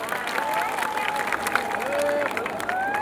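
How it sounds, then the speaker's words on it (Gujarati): A festival crowd at a Janmashtami celebration in Sarangpur applauds the performers after the pot-breaking event, a steady wash of clapping and crowd noise with some cheering, and tonal sounds running through it. "કલાકારોને જોરદાર તાળીઓથી વધાવો."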